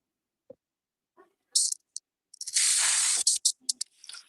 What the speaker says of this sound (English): I hear a pressure washer